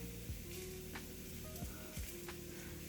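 Garlic and chili flakes fry in a pan for shirataki noodles, giving a steady close sizzle with small crackles and a few brief clicks, and no voices.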